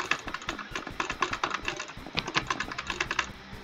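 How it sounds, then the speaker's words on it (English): A computer keyboard clatters with quick, uneven bursts of key presses and clicks during a Roblox Bedwars game, close and fairly quiet, with no voice over it. "I'm sorry you guys have to hear me clicking."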